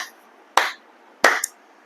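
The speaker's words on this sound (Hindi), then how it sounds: "इसलिए आपके लिए मैं तालियां बजाता हूं यहाँ पर" A man claps his hands in a quiet room, two crisp separate claps about two-thirds of a second apart, then a faint extra tap.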